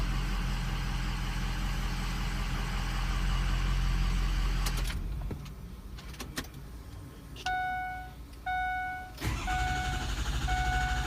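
A 40,000-mile truck engine rumbling, then brief cranking bursts with starter whine, stalling and restarting before catching, loud and close, with no talk.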